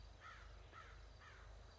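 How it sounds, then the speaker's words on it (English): A crow or raven caws three times at an even pace in an otherwise quiet outdoor spot, the calls moderately distant over a low steady rumble from a running car. "Just the sound of the crow."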